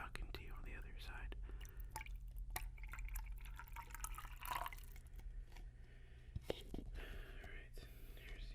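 Liquid poured close to a microphone trickles and drips in soft, uneven splashes, with quiet whispering alongside.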